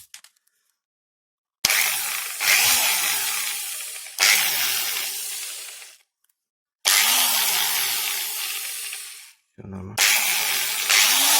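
An angle grinder, freshly reassembled after its gearbox grease was replaced and set to speed three, runs in several bursts of a few seconds each, spinning up loudly and whining steadily before winding down, with a short spoken remark between runs.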